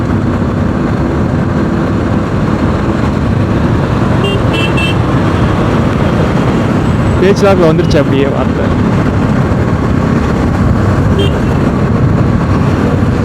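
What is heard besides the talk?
Chennai city road traffic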